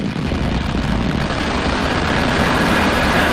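Rocket liftoff in the Spaceflight Simulator game, an NROL-95 launch with M1D engines, gives a loud, steady, broadband roar that holds unbroken throughout with no voices.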